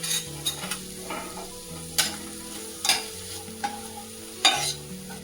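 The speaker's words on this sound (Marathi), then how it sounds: "असा व्यवस्थित परतून घ्यायचा आहे" A green pea cutlet mixture is stirred and sautéed in a pan, with a steady soft sizzle and periodic scraping clinks from the spoon against the pan, recorded close without any talking.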